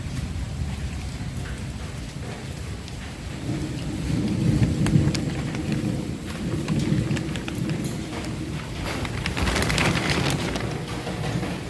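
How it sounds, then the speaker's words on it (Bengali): Steady rain falls through a night storm while deep thunder rumbles build and roll, swelling in the middle and again near the end, with no one speaking. "এখনও গুঁড়ো গুঁড়ো পড়ছে, বুঝতে পারছো কি না জানি না, তবে এখনও পড়ছে আর আকাশও ডাকছে।"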